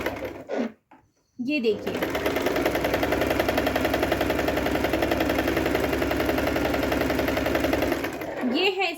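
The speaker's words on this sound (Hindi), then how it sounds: "ये है इस मशीन की रियल नॉइस जो अभी ये चल रही है 4 इयर्स के बाद" Singer Promise 1409 sewing machine, four years old, stitching at a steady fast rhythm with a continuous mechanical whir and chatter; someone speaks briefly before it starts, and the run lasts several seconds at close range.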